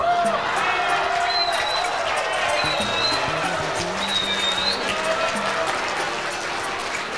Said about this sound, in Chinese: 想听的话掌声要更大声一点